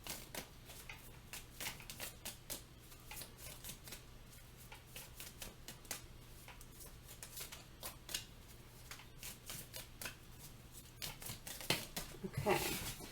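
Tarot cards are shuffled and handled at close range, a rapid run of crisp riffling flicks and soft slaps, with a low steady hum underneath and a louder burst of handling near the end.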